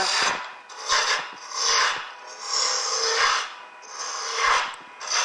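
A gouge shapes very hard wood for a baby rattle on a lathe, giving repeated rasping, scraping cuts that swell and fade in steady passes, close and alone.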